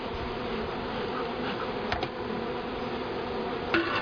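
Steady, dense buzzing of many honeybees flying close by while being hived from a package, with a couple of brief soft taps partway through and no talking.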